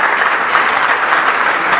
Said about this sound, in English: let's give a round of applause to those businesses and their representatives